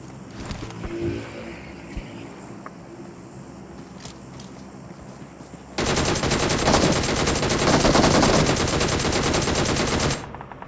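Gunfire in the mobile battle royale game PUBG Mobile: scattered distant shots first, then a sustained loud burst of rapid automatic fire lasting several seconds before cutting off.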